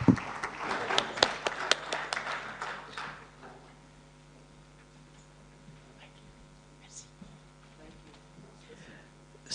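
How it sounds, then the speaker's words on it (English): Audience applause in a conference hall after a talk on language technologies, a dense burst of clapping for the first three seconds that thins out and fades into quiet room tone. "I'd like us to give him a big applause for a very interesting"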